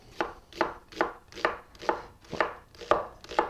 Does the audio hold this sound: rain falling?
no